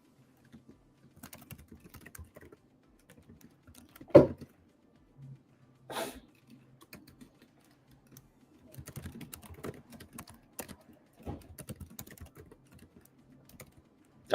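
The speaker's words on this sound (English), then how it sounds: "So I'm going to type that into the chat because I want to pull up our tree." Keys clacking on a computer keyboard in short irregular bursts, close and fairly quiet, with one sharper louder knock partway through and brief pauses between runs of typing.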